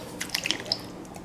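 A can of Rotel tomatoes is poured into a crock pot of chili, giving a quick run of soft wet drips and plops, close and fairly quiet, over about a second.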